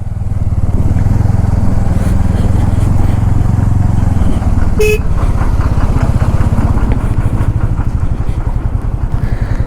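A motorcycle engine runs loudly and steadily on the mountain road over Zoji La pass at about 12,000 feet, its low rumble constant, with a brief bright mechanical whine partway through.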